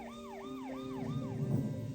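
An ambulance siren wails in a steady rising-and-falling pattern, repeating every half second or so, with traffic rumble building underneath as it passes through a crowd of protesters.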